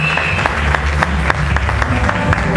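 An audience in a church service applauds and cheers for God, with dense steady clapping and crowd noise under a low musical drone.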